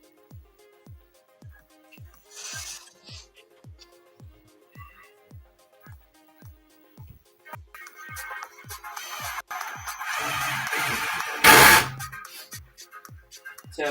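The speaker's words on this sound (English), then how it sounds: "Your drill plays music?" A drill plays a repeating electronic tune like a phone ringtone, a steady rhythmic pattern of short tones, joined later by louder rushing noise and a sharp burst near the end.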